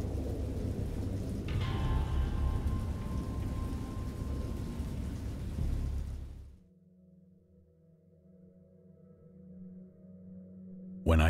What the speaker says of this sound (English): I heard peals of thunder and other tones which nature utters only in her wildest moods